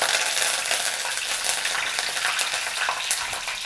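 Curry leaves and fenugreek seeds fry in hot oil for an Indian fish curry, a loud continuous sizzle and crackle with small popping bursts, close up and steady throughout, no voices.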